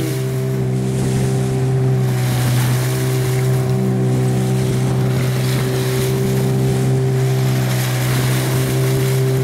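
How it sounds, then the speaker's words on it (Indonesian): A speedboat maneuvers at very high speed across the water, its engine a loud, constant droning hum under rushing wind and spray. "kapal mulai melakukan manuver dengan kecepatan sangat tinggi melintasi kapal Sungai Cokel"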